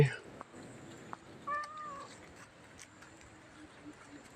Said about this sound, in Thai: แมวเหมียวเด็กวัดทั้งหลาย